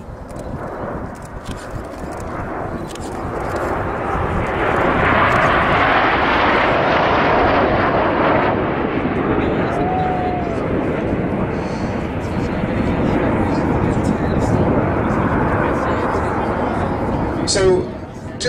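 Red Arrows jets flying in Diamond 9 formation at an airshow, a broad, steady jet roar swelling and holding loud throughout, with commentary voice over it.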